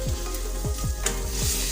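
Red chilli, cumin and coriander powders fry in hot oil for potato and radish bhaji, giving a constant close sizzle with a few soft stirring scrapes; no voices.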